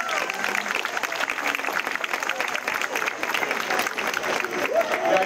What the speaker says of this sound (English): So let's give our teachers a big round of applause.